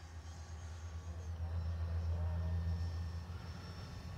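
Arrows RC Marlin 64mm electric ducted-fan jet, a small stable model aircraft, passing overhead with a steady droning whine and low rumble that swells to a peak mid-pass and then eases slightly, heard alone without talk.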